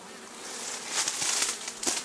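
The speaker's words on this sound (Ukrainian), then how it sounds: "Хоча мені здається, що це новий рій все одно." Honey bees buzzing in the evening around a hive, likely a newly settled swarm, with a steady diffuse hum that swells in brief louder passes, no talking.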